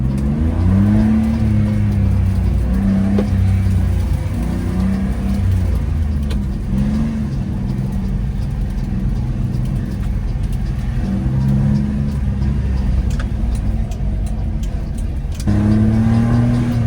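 A car engine revving up through several gears with a loud, throaty aftermarket exhaust, rising and dropping in pitch at each shift, running continuously up close for the whole stretch.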